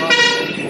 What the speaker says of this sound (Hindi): इसलिए ट्रैफिक की पूरी, गाड़ियों की पूरी आवाज़ आती है